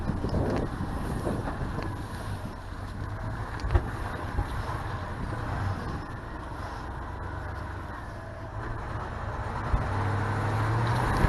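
An old Chevy mud truck drives through mud in four-wheel drive, giving a steady, loud engine and drivetrain roar mixed with heavy wind buffeting on the microphone and no talking.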